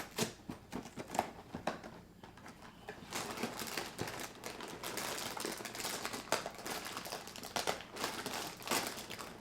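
A tough plastic bag of Froot Loops with marshmallows is torn open up close, giving a dense crinkling rustle broken by sharp irregular crackles, with no talking.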